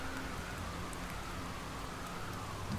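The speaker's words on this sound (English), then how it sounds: "Oh, it's raining again." Steady rain falls in the video game The Solus Project, a continuous dense hiss of drops on surfaces that stays even and moderately faint throughout, with no voices.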